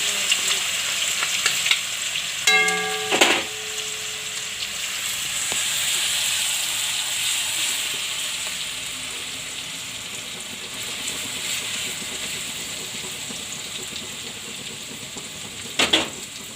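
Cumin, ginger, chili and garlic frying in hot oil while cooking a Gujarati muskmelon curry, a steady close sizzle with a few sharp clinks of a spoon against the pan.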